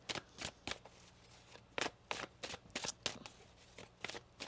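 Tarot cards shuffled by hand at close range, a quick run of crisp riffling bursts about a dozen times in a few seconds, with short quiet gaps and no talk.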